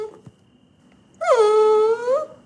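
A dog in a kennel lets out a drawn-out, high, tonal whimper that rises into a wavering whine for about a second, clear and close, after a soft earlier snuffle.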